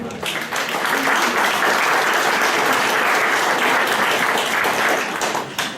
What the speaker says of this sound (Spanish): Lo recibimos con un fuerte voto de aplauso